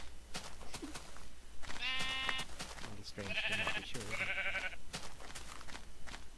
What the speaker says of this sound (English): More sheep.